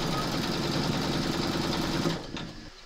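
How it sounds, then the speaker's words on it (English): An embroidery machine stitching a remembrance quilt panel in its hoop gives a steady close mechanical whir with a rapid needle rhythm, slowing and stopping near the end. "We're now going to pop your hoop into your machine and stitch round number four"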